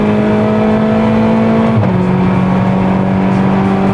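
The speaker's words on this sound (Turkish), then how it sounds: "Hızlandı araba." A tuned VW Polo GTI with a 1.4 TSI engine, built to over 500 horsepower, accelerates hard, its loud steady engine drone holding a sustained tone with a shift in pitch partway through, heard close without talk.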